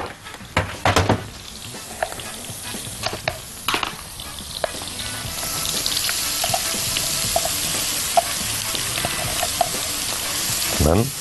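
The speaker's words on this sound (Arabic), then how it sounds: "يعني انا بس بحرك البصل" Onions are stirred and fried in a pot, with a broad crackling sizzle that grows steadier over the clip and a few sharp utensil knocks near the start.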